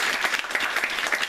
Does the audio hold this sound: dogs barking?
no